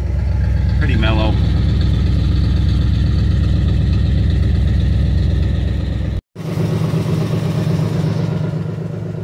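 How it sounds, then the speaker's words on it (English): A 1966 Ford Thunderbird V8 idles with a quiet, mellow exhaust, a steady low rumble close by that cuts out briefly for a moment before resuming at the same even pace. "It's got a nice quiet exhaust."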